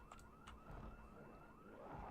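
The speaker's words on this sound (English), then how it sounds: "A zombie just triggered an alarm." A car alarm set off by a zombie in the Project Zomboid survival game wails in a steady, repeating rising pattern at moderate distance, running continuously throughout.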